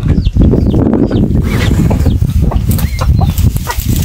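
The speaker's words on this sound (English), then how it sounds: "So you want to transfer this hen and its chicks" A hen and her chicks on rural Maasai land in Kenya flap their wings in loud, close bursts while being caught. Scuffling and cluck-like calls mix with thin chick peeps throughout.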